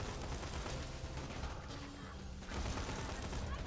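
Automatic gunfire from a weapon in the video game Borderlands 2, a dense, continuous rattle of rapid shots that runs the full length at steady volume with little pause.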